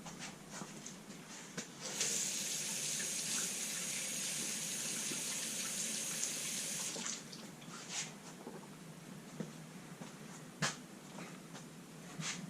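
Water streams over a silicon carbide sharpening stone as it is rinsed, a steady hissing gush for several seconds that stops, leaving faint drips and small taps.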